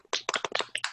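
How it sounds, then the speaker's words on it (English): A few people unmuted on an online class call clap briefly in a short, uneven burst of sharp claps, fairly close and with no talking. "A big round of applause to Mr. Sean Maloney, everybody."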